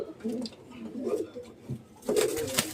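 Pigeons coo in low, throaty burbling phrases, close by, with a few brief pauses and a louder stretch near the end.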